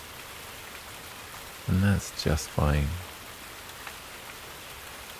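Steady soft rain hisses evenly throughout, a constant wash of pattering under a calm voice that speaks briefly in the middle.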